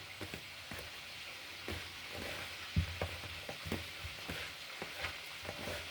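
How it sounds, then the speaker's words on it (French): Attiéké being stirred and mixed with four spoonfuls of oil, giving a steady grainy rustle broken by soft scraping taps of the utensil, close and moderately quiet, with no talking. "Et puis maintenant, je vais bien mélanger le tout."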